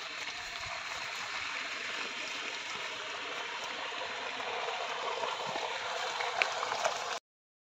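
Steady rushing, bubbling water with a faint splash near the end as a buffalo on a Kerala farm is led into the water, continuous and close for several seconds before cutting off.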